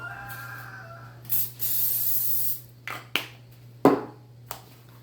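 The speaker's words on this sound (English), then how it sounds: "You probably want to grease this pan first." Cooking grease sprayed from a can onto a baking pan in a home kitchen, one long close hiss of about a second followed by several clicks and clacks of the can and pan, with no talk.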